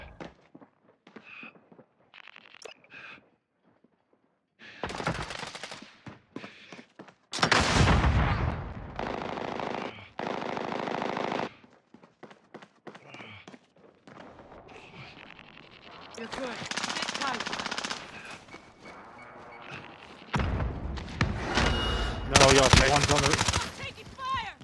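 Gunfire in Call of Duty: Modern Warfare, loud bursts of automatic and single shots in repeated clusters, some near and heavy, mixed with players talking over voice chat.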